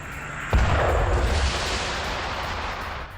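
A sudden loud blast from a ballistic missile strike on Tel Aviv hits after half a second, followed by a long rumbling roar that slowly fades into a noisy hiss.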